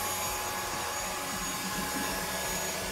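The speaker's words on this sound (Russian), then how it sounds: "Решил протестировать, насколько точно робот-пылесос автоматически вернется к месту незавершенной уборки" Xiaomi Mijia 1C robot vacuum cleaner running, a steady low motor whir with broadband suction hiss, constant and fairly quiet, with no talking.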